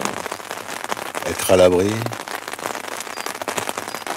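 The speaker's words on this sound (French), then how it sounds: "J'entends la pluie qui coule, qui tombe." Rain falls steadily on a bivouac shelter during a hike east of the Gorges de Daluis, a dense close pattering that continues under a man's brief, quiet speech.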